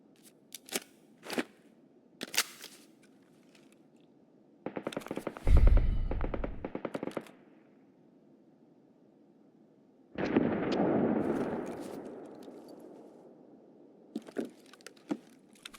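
Bursts of automatic gunfire from a firearm loaded with HP rounds in Escape from Tarkov, several separate rapid volleys with quiet gaps between them and a few single shots, close and loud with no talking.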